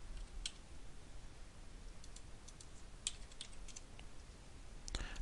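Coordinates are typed on a computer keyboard in short bursts of light, crisp key clicks. The typing is quiet and close, with a few louder taps over a faint background hiss.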